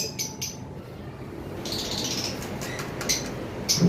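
Violet Fischer's lovebirds chirp in short, sharp bursts from a cage, a few high tweets scattered over a dull background hum.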